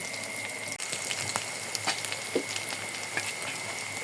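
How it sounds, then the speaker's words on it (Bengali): Potato fritters (aloo fulki) fry in a pan with a soft, steady crackle and scattered pops, fairly quiet and with no talk. "ভালো মতো ভেজে নেব"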